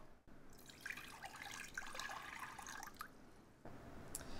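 Water pours from a tap into a small cooking pan in a kitchen, a faint splashing, trickling stream that swells and fades with a short break near the end, no voices.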